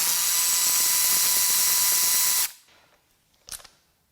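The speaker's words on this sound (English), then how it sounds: "let's pull some spark plugs" Ratchet working loose spark plugs on a BMW Mini Cooper S N18 engine during a teardown: a dense run of rapid mechanical clicks for about two and a half seconds, stopping abruptly, then a brief faint clatter.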